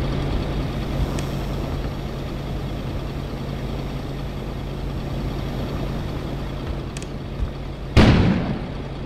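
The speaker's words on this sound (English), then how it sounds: "An explosion suddenly occurred outside." A sudden loud explosion goes off outside in the video game Kona, one sharp blast that decays quickly over a steady low rumbling hum of background ambience.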